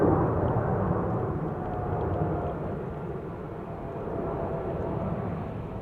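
Garuda Indonesia airliner in normal livery departing Schiphol Airport outbound to Jakarta, a steady broad jet roar held at a distance for several seconds with a slight swell, no voices.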